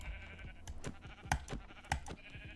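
Sheep in a video game bleat twice in short, fairly loud cries over a steady game background with soft incidental clicks.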